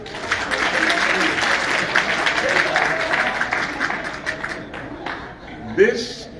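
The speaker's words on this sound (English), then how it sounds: "Clap your hands." Audience at a national convention breaks into sustained, dense applause, a thick continuous wash of many hands that thins out toward the end, with a brief voice emerging at the close.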